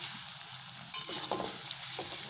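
Shallots, soaked in salt water and rinsed, frying in hot oil for a fried-shallot topping, a close, continuous sizzle and crackle with occasional stirring scrapes.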